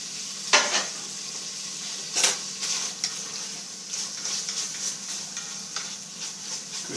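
Carrots, garlic and shallots fry in a pan for rabbit chasseur, producing a soft continuous sizzle with a few sharp utensil scrapes and stirs, close by and without talking.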